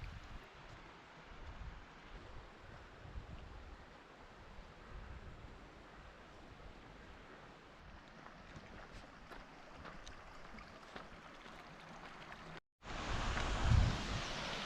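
Steady broadband rush of river water flowing beneath a small footbridge at Sour Milk Gill near Bleaberry Tarn in the Lake District, continuous and close, with some wind buffeting; a brief cut then a louder burst near the end.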